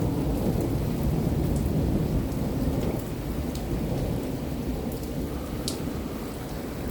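Severe spring thunderstorm in Albert Lea, Minnesota: steady heavy rain pours on surfaces nearby while deep, rolling thunder rumbles underneath throughout, with occasional sharper drips standing out.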